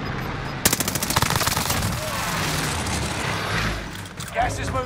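Rapid automatic gunfire from a Call of Duty battle royale match on Rebirth Island bursts out loudly in a quick rattling string, then trails into a dense wash of distant shots and explosions under voice chat.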